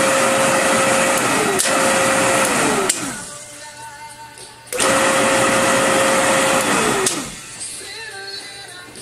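A small electric motor is powered up twice, each time giving a loud steady whine that then winds down in pitch and fades, with a brief quieter gap between the runs.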